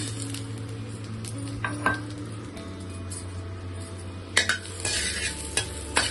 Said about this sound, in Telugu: మా ధనియాలు ఇలా వేగిపోయినాయి కదా